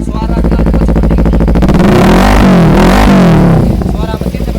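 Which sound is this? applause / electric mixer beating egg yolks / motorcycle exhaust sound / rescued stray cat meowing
motorcycle exhaust sound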